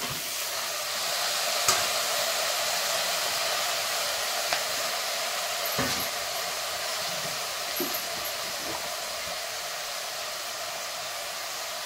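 Chopped tomatoes go into a hot pan for a Telugu-style brinjal and tomato gongura dish, giving a steady broad sizzle and hiss throughout, with a few faint clinks of a utensil against the pan.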